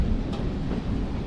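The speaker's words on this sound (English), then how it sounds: "This is actually one of the 5 wood-burning shade locomotives." Oil-burning, gear-driven Shay steam locomotive on a mountain logging railroad, a close, steady low rumble and chuff over rolling clatter, continuous for a short moment with no talk.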